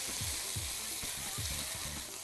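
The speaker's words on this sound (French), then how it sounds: "Et on les met maintenant donc dans notre wok. Et ça s'entend, c'est bien chaud." Prawns sizzle and fry in a very hot wok, a steady bright crackle running throughout, with a few low knocks as they are stirred and tossed, close up and without any speech.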